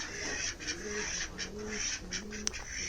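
Ducks kept at a roadside chai station in Rajasthan give soft, repeated low calls and quacks over a steady hiss of outdoor background noise, moderately close, with no clear talking.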